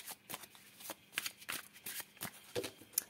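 A deck of tarot-style cards is shuffled and cut for a love reading, giving repeated soft riffling bursts in an irregular rhythm, close and quiet with no talking.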